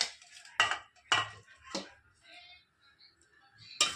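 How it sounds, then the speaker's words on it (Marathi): Roasted green chilies crushed in a stone mortar (phulbatta) in a home kitchen: about five sharp, close pounding knocks at irregular intervals, with quiet gaps between them. "हे बघा मी फुलबत्ता घेतला आहे आता ह्याच्यामध्ये पहिले मिरची बारीक करून घेणार आहोत आपण"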